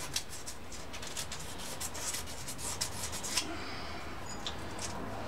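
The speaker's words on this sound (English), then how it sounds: "Sandpaper wore out pretty quick because these rods are impregnated with oil." Sandpaper rubbing by hand on an oil-impregnated connecting rod from an Evinrude/Johnson V-6 60-degree outboard engine, a steady soft rasping with repeated strokes, close and fairly quiet, with no talk.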